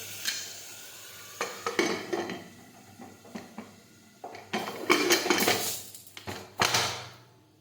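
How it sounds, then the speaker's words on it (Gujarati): Metal clanks and clatters of a pressure cooker lid being handled and shut, several sharp knocks, loudest near the end, with no talking. "હવે આપણે કુકરનું ઢાંકણ છે તે બંધ કરી દઈશું।"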